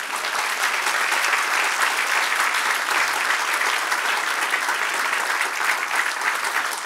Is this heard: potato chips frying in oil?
no